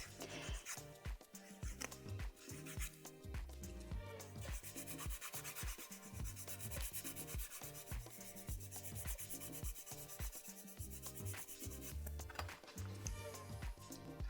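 Gentle, continuous scratchy rasping of a 240-grit file removing leftover acrylic gel from a fingernail, quiet and close with quick back-and-forth strokes and no speech.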